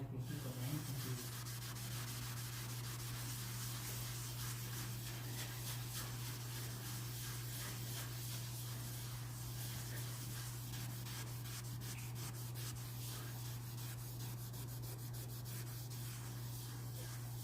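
Steady abrasive scrubbing of the bottom of a stainless steel cookware pot with the rough side of a scrubbing pad, a continuous close rubbing rasp that goes on alone throughout with no talk.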